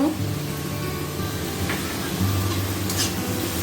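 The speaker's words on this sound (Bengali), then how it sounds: "একটু কষিয়ে নেব মশলাটা" Spice masala with turmeric, salt and chopped tomato sautéing in hot oil for a taro-root curry gives a steady, close sizzle that holds throughout, with faint stirring underneath.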